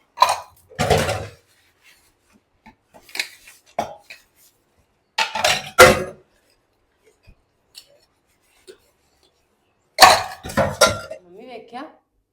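A pile of household dishes is washed and scrubbed, with scattered clattering of pots and utensils and scraping in short bursts separated by quiet gaps, under occasional talk.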